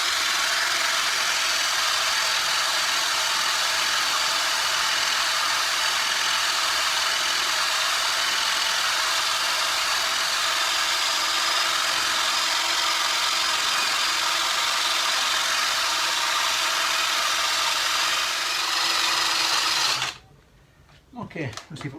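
A polishing wheel buffs a Honda CB engine casing, a loud, steady whirring hum with broad hissing friction that holds unchanged for about twenty seconds before cutting off abruptly.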